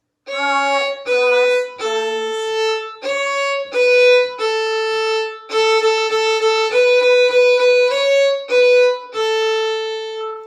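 A violin plays Hot Cross Buns, a simple melody of sustained, evenly paced bowed notes with brief gaps between them, clear and close, no voices.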